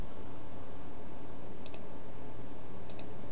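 A computer mouse clicks twice about a second apart, each a sharp paired tick, close but quiet over faint background hiss, no talking.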